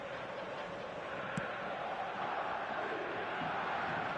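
A steady crowd roar fills a simulated football stadium during an eFootball match, a dense, continuous murmur of many voices holding at an even level with no clear individual shouts.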